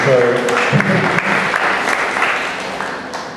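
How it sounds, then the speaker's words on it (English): An audience at a village circle community meeting breaks into applause, a brisk burst of clapping that starts strong and slowly tapers off, with a voice audible near the start. "I think it deserves a round of applause."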